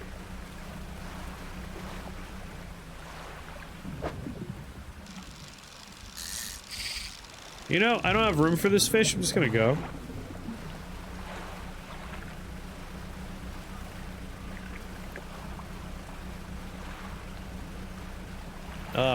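A small fishing boat motor hums steadily over the open sea in the game Dredge, a low continuous drone with watery wash beneath, briefly interrupted by bright game interface chimes while someone talks over it.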